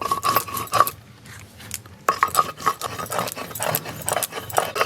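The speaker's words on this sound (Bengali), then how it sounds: "এই হচ্ছে গরম মশলাটা বেটে দিচ্ছি" Garam masala spices being ground by hand on a grinding stone in a traditional Santali kitchen, with repeated scraping and rubbing strokes, close and fairly loud, pausing briefly before resuming.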